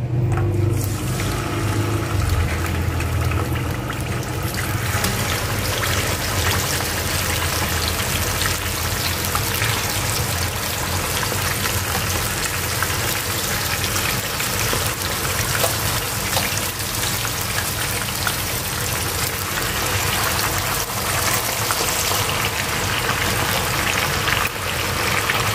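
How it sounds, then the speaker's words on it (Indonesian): Continuous crackling sizzle of chicken frying in hot oil, loud and steady from start to finish, close by with no speech. "kita goreng ayam sehingga matang"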